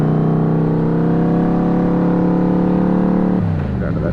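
A Yamaha VMax motorcycle engine holds a loud, steady droning note while riding on cold roads, close to the microphone, before the pitch drops away near the end as the throttle eases.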